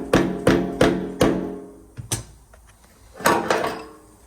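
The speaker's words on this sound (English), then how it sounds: "Now that just needs a tap tappy tap." A hammer taps a retaining ring into a Bosch 044 fuel pump assembly for a Volvo 245, with a run of four sharp metallic knocks, a lone tap after a pause, then a quick cluster of three more, close and ringing.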